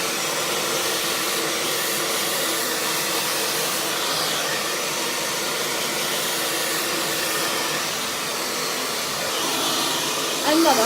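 A hair dryer blasts steadily while blow drying hair, a loud continuous airy roar running the whole time with slight shifts as it is moved, ending with a brief rustle.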